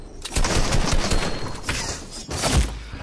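Fortnite gunfire crackles in loud, close, rapid bursts, with a sustained run of shots, a brief lull, and then another burst, with no voices over it.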